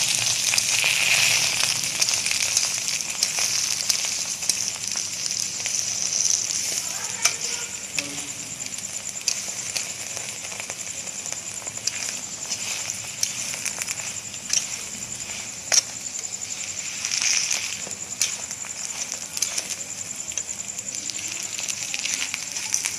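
A mutton qeema paratha fries in a pan with a soft, steady sizzle and faint crackling that runs throughout, interrupted by occasional light clicks and scrapes.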